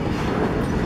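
Continuous broadband rumble of a CSX southbound garbage train rolling past at a road crossing in Columbus, Ohio, loud and close with no break.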